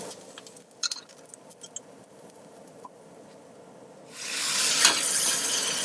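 A mixture with chopped parsley cooks in a pan, a few light clinks and stirring taps giving way to a steady, broad sizzle that swells loudly near the end, with no talking.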